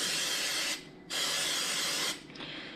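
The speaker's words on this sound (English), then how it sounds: "Now we will liberally spray our cupcake pan." Cooking spray hisses onto a cupcake pan in two long bursts separated by a short pause, then a brief final spritz, close and clear with nothing else heard.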